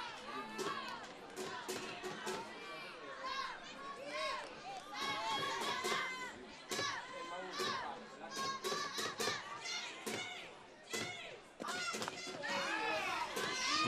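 Forlì baseball fans cheering in the stands: lively crowd noise with shouting, chanting and excited voices rising and falling for the whole stretch, with children's voices mixed in.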